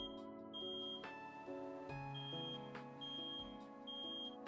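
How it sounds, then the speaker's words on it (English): A smoke alarm in a common room goes off, sounding steady electronic beeps that repeat roughly every second over a layered musical background, fairly loud and continuous. "the smoke detector above reaches its limit, overloaded like lungs inhaling too much smoke"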